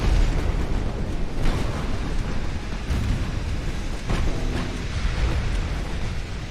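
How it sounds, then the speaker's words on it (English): A torpedo strikes the battleship Ostfriesland during an Ultimate Admiral: Dreadnoughts naval battle, a continuous loud rumbling blast roar with several booming surges layered over steady battle noise. "And the Ostfriesland just took a friendly torpedo."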